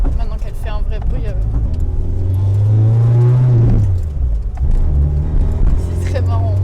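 A Nissan Micra engine revs up and settles back down at close range, a loud rising drone with speech over it.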